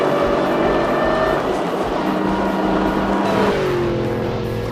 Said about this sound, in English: Every time I accelerate, the rear end's popping out.